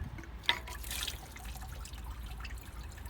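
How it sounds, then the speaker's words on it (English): Coolant leaking from a 2006 GMC Canyon with a 2.8L four-cylinder drips into a bucket, one sharp close drip followed by a soft, steady trickle under faint background noise. "You can hear it dripping into my bucket,"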